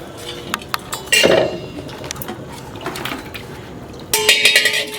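Dishes and pots being washed, with scattered sharp clinks and clatters of metal and crockery, some louder bursts, close by against a busy background.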